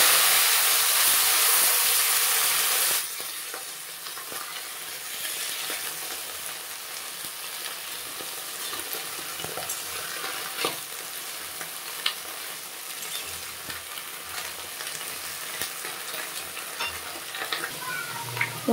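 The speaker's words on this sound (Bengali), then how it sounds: "এখন আমি কচু শাকগুলো দিয়ে দিলাম।" Taro leaves stir-fry in a pan with a steady crackling sizzle. It starts loud and bright, then settles into a softer, continuous hiss broken by occasional scrapes and small clicks as the leaves are stirred.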